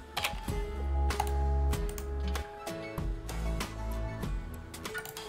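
Keys clack on a computer keyboard as a folder name is typed, a short run of close distinct clicks over a steady low hum, with no talk.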